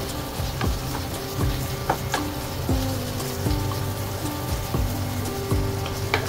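Onion and ginger sizzle steadily in a hot pan while being sautéed for beef ampalaya, a continuous close crackle broken by repeated clinks and scrapes of a stirring utensil.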